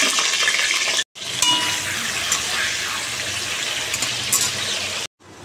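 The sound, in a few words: pointed gourd frying in refined oil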